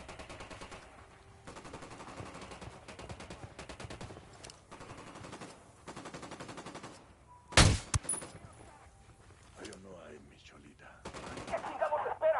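Gunfire in the video game Ghost Recon Wildlands: a loud, sharp burst of shots cuts in near the middle, preceded by quieter game ambience and faint murmuring voices, with more rumbling activity building toward the end.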